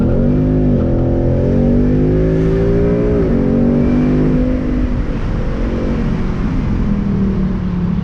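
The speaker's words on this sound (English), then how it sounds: "with track mode you basically get a further increase in acceleration, as you can see here, and the exhaust is louder" A Ford Mustang GT convertible accelerating hard in track mode, its loud exhaust roaring steadily and rising in pitch through the gears, close and continuous for the whole stretch.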